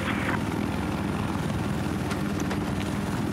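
An enemy helicopter in the video game Battlefield 4 gives a continuous rotor thump and engine roar over desert terrain, holding steady and fairly loud with no talk.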